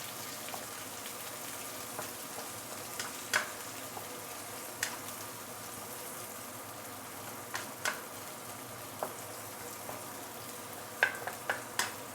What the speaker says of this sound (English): Continue sauteing.